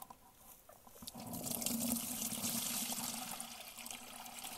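Honey water pours through a sieve into a bucket as a continuous rushing, splashing stream that builds after the first second and stays steady, heard up close with no talking.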